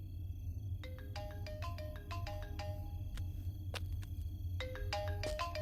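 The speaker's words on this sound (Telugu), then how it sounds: "sir me phone మోగుతోంది" A mobile phone rings with a bright electronic ringtone, a repeating melody of short tonal notes that keeps playing over a low, steady rumbling background.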